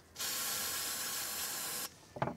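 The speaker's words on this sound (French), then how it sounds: "Je vais même mettre un petit coup de nettoyant frein là-dedans" Brake cleaner sprayed from an aerosol can onto the gearbox of a Renault Mégane 2 1.9 dCi, one steady loud hiss for nearly two seconds, then a brief clatter.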